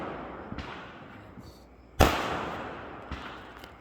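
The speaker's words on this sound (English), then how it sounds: "that was a lot of fireworks" Neighborhood fireworks burst in the distance on a July evening, a few thuds and one sharper crack, each trailing off into a low rumble.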